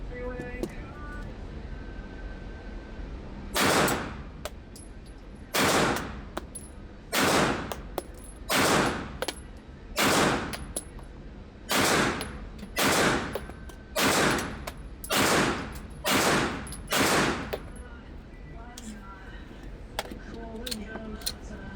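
Glock 19 pistol fired in an accuracy test at 7 yards: about a dozen loud, sharp shots at a steady, roughly one-per-second pace over continuous outdoor background noise.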